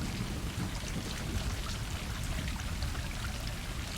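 Heavy rain in the video game Stray pours down in a constant, dense hiss with a low rumble underneath, loud and unbroken throughout.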